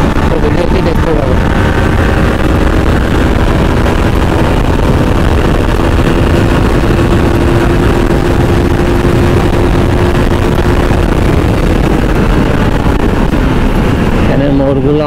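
Motorbike engines droning steadily during a street drag race on Mongla Road, a continuous loud roar with a sustained tone and wind rush, voices faintly underneath.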